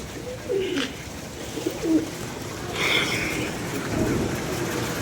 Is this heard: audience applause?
no